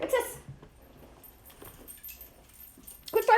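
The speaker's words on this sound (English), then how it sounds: "Quit barking." A dog gives a few short, close yips and whimpers at the start and end of the stretch, with keys jangling and light handling noise in the quiet between.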